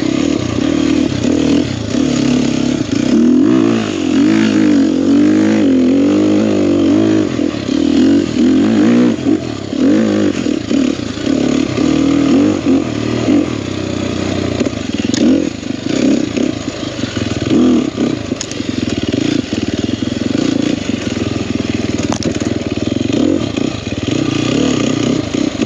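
A Sherco 300SEF four-stroke dirt bike is ridden on mountain single track, its engine buzzing loudly and steadily with fluctuating revs, along with clattering and scraping from the rough trail.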